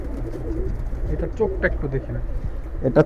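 A pigeon from a Nafta line in a hobby loft gives soft, low coos in short bursts, close by, mixed with murmuring voices and faint loft noise.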